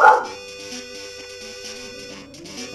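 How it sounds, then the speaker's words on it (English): A pet dog barks and yips indoors, its calls faint and intermittent beneath steady electronic background tones. "Because my dog is barking like crazy."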